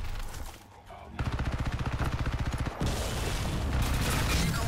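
Rapid automatic gunfire in Crysis 3 multiplayer, a fast even burst of shots followed by a dense rumbling wash of game noise, loud and continuous.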